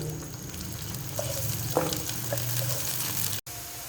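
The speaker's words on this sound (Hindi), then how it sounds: "यहाँ मैंने प्याज डाल दिया ऑयल के अंदर। इसको मैं 2 से 3 मिनट के लिए अच्छे से फ्राई कर लेती हूँ।" Steady crackling sizzle of onions frying in hot oil for a pumpkin and white chickpea curry, with occasional louder pops and spatters, continuous and close.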